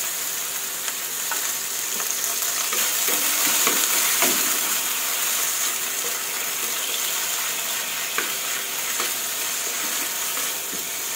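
Minced pork stir-frying with a splash of water in a pan for a Thai tofu dish, a steady bright sizzle with faint scraping stirs, continuous and close, no talking.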